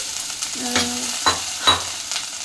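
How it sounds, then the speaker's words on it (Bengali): An ingredient fries lightly in a pan, giving a soft steady sizzle with a few brief scraping stirs, close and moderately loud, with no talking. "তো এবার একটু আমি এটা ফ্রাই করে নিচ্ছি"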